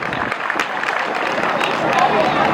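A crowd of students and teachers at a school prayer assembly in Fudeda breaks into vigorous, sustained clapping, a dense, even wash of applause filling the space.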